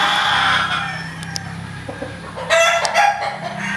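Kelso gamecock rooster crowing close by, one loud drawn-out crow followed by a few short clucks and a second bright burst near the end, with faint background noise.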